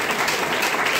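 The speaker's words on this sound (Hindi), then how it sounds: "ये ठोको ताली भैया के।" Brief burst of audience clapping at a gathering, dense and even, heard alone for about a second.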